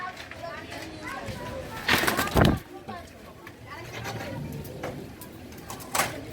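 A pair of Giribaz all-rounder flying pigeons coos low and repeatedly close by, with a brief rustling burst partway through and someone talking over the birds.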